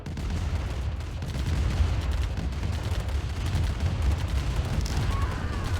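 Constant crackling gunfire and explosions from a C&C Tiberian Dawn battle as rocket troopers fight off tanks, a dense, continuous barrage with rapid sharp reports throughout.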